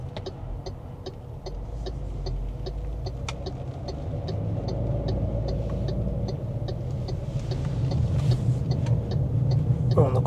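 An MG HS 1.5T with a dual-clutch gearbox, driven in sports mode, hums steadily inside the cabin and gradually grows louder as it accelerates, with a regular ticking heard over the engine.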